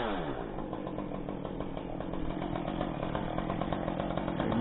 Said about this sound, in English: Be mindful of his chainsaw.